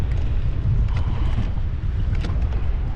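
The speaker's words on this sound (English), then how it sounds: "Wind that has not calmed down" Heavy, steady wind buffets a small fishing boat on the Columbia River, a loud continuous low roar of gusting air and water with no pauses, close to the microphone and with no voices.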